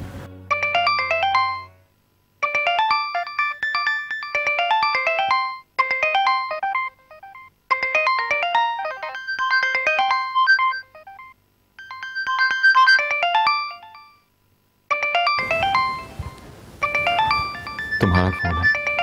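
A phone ringtone plays a bright, repeating electronic melody in regular bursts with brief gaps, loud and close, before muffled room noise and voices start up underneath near the end.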